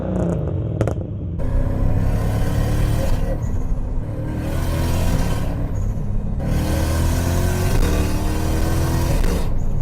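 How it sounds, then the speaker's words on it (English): A car engine revs hard under full acceleration, climbing in pitch and cutting briefly at each lightning-fast dual-clutch gear change, with about three quick upshifts. The sound is loud and steady, with no talking. "Those gear changes are lightning fast."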